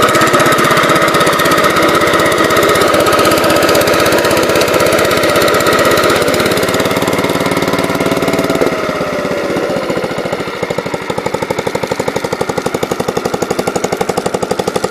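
Close, loud and steady, a 1975 Gravely C10A walk-behind tractor engine runs with a rapid, pulsing chug that shifts pitch midway and settles into a slightly lower, rougher idle near the end.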